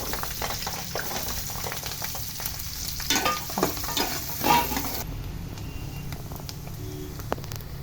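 Onion pieces fry in a pan with curry leaves and green chillies for a goat curry, a steady close sizzle with stirring scrapes midway before the hiss settles to a quieter, even bubble.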